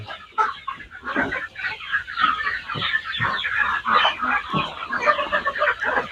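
Chickens cluck continuously on a small backyard farm, several birds overlapping in a busy, close chorus of short calls with no clear talk.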